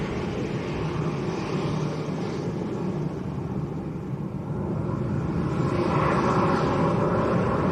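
Smart Wings airliner on its takeoff roll at Lanzarote Airport, a steady broad jet roar heard from a distance that swells slightly toward the end.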